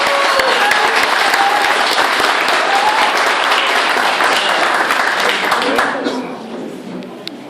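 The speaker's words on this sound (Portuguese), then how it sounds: "Nelson Piquet, uma salva de palmas" Loud, dense applause from a large audience welcoming former racing driver Nelson Piquet at a military school in Brasília, sustained for about six seconds before tapering off.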